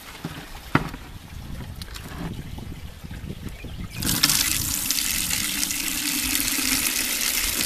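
Rainwater runs out of a rain barrel's outlet, a low trickle at first that jumps to a strong, steady rushing gush halfway through, close by and with no talking.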